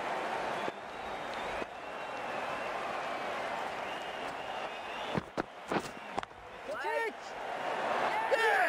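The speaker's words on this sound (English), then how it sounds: "The crowd on their feet." A cricket crowd at a North American club match cheers and applauds for several seconds, a broad wash of clapping and voices that fades before brief commentary.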